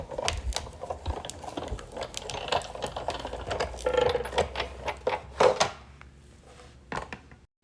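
Crank being turned on a Sizzix Big Shot die-cutting machine cutting cardstock through a steel rule die sandwich, a close series of ratcheting clicks and mechanical gear clatter, fairly quiet.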